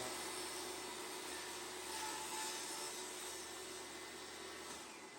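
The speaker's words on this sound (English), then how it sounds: "turn the saw on." A table saw runs while cutting a groove into exotic wood for a serving tray, a steady loud whirring drone with a hissing cutting edge, close and continuous, without talk.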